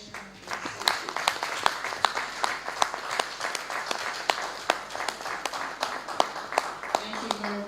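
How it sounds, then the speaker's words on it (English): A room applauds the Honorable Commissioner at a 2025 ministerial press briefing of the Ministry of Wealth Creation and Employment, with dense clapping and distinct sharp hand claps rising above it at a moderate level, continuing for several seconds. "can we please applaud the Honorable Commissioner?"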